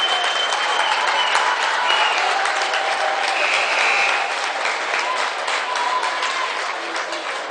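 Marion fans at a basketball game cheering and applauding, a dense, loud, continuous wash of clapping and crowd noise that holds steady before easing slightly toward the end.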